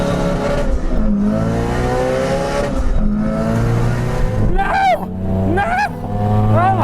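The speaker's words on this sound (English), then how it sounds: "Ben challenged me to a drag race, and like any good Honda owner, I couldn't turn that down even if I do have a boost leak" A Honda car drag racing despite a boost leak, engine revving hard and climbing through rising gear pulls with shifts between them, loud and close, with voices over the engine noise.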